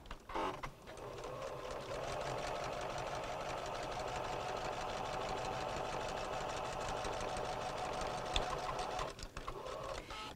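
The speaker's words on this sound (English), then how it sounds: "we're going to sew from corner to corner here at a 45-degree angle" A domestic sewing machine stitches a diagonal binding seam on quilt fabric, a steady fast mechanical whirr with rapid needle clatter running continuously for several seconds before slowing and stopping.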